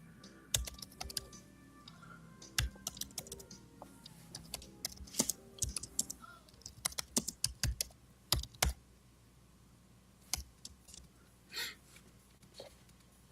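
Computer keyboard typing in irregular bursts of close, sharp key clicks, with quick runs of keystrokes separated by short pauses and no talk.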